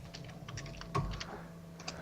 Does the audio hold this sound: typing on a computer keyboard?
yes